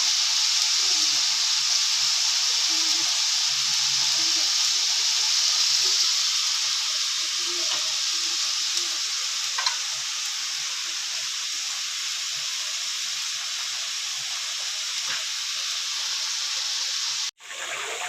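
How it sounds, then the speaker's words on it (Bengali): Ash gourd stir-frying in a pan gives a steady, close hiss and sizzle that holds evenly throughout, with faint clinks now and then and a brief dropout near the end. "তো আমি এখন জালি কুমড়া ভাজিটা বসাবো।"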